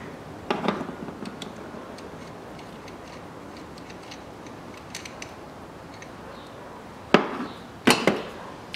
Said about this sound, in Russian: Откручиваем оба болта на рампе.